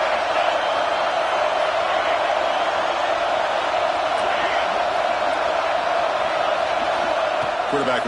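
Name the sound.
stadium crowd cheering at a football game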